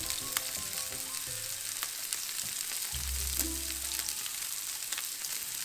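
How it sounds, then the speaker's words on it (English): Onions and peppers, including chilies, cayenne and banana peppers, frying in a pan for ostrich steak fajitas, giving a continuous close sizzle with occasional clicks and a brief lower rumble partway through, and no voices. "throw your onions and cook them in the pan"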